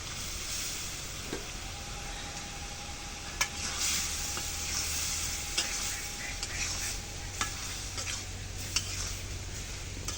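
Potatoes and soya chunks fry in a pan while a spatula stirs them. A continuous hiss runs throughout, broken by a few sharp scrapes and clinks against the metal.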